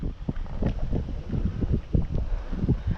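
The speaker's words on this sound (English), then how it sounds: "my kayak ain't turning in this wind" Gusty wind buffets around a kayak out on the water during a stormy fishing trip, a steady low rumble of microphone-battering gusts with no talk.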